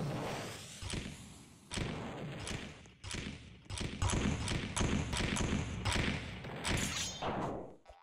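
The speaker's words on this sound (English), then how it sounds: "Run away from the bombs" Repeated booming blasts from bombs in a Roblox pirate battle game, several heavy thuds in quick irregular succession over a dense, noisy game soundscape, loud and close throughout.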